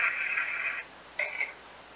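A spirit box app plays steady electronic static hiss, broken by two short, bright radio-like tonal bursts, the second starting after a brief gap.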